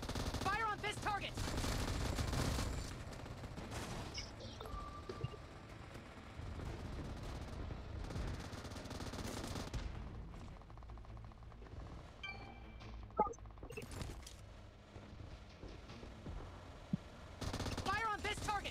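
M249 machine gun fire in PUBG Mobile, loud sustained bursts with short gaps and rattling shots, mixed with game effects and a few isolated clinks.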